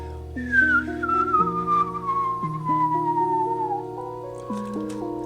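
A seated man whistles a gliding, descending melody, steady and close, with a sustained tonal drone running underneath for about five seconds.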